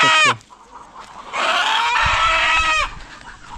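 Native chickens on a hillside farm in Saudi Arabia cluck and squawk close by, with a loud sustained run of cackling after a short call at the start.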